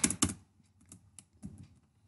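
Close computer keyboard typing, a quick pair of strong key presses followed by lighter scattered taps and another firm keystroke, in a quiet room.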